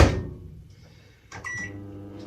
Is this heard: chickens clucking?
no